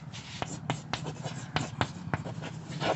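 Math being written on a board during a lecture: a quiet run of scratchy strokes and taps, several short marks in an uneven rhythm, with no voice over them.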